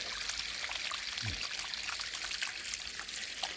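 Water pouring from a solar-powered submersible pump fed by three panels, a constant soft splashing trickle that runs steadily throughout, faint and alone.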